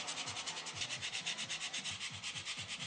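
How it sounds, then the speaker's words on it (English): Walnut wood sculpture being hand-sanded gives a rhythmic, quick back-and-forth scratching rasp, strokes repeating evenly about eight times a second, close and alone. "So I finished, filed, and sanded it."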